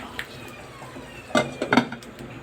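A metal pot lid clanks back onto a pot of simmering Batangas-style paksiw na pata (braised pork hock), with two or three quick, close rattles over a low kitchen background.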